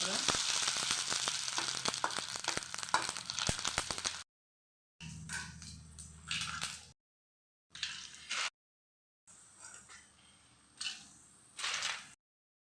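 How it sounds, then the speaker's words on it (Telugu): Hot oil sizzling loudly as sun-dried lentil fritters (vadiyalu) fry for a dal tempering, then several shorter bursts of crackling separated by brief silences. "ఇప్పుడు ఇందులో వడియాలు వేయించేసుకుందాం"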